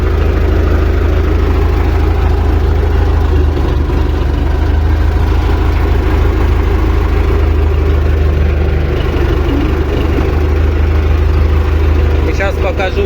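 Vehicle engine idling steadily with a low hum, then the gear is shifted and the vehicle pulls away. A loud, continuous drone runs throughout, with a few faint clicks near the end.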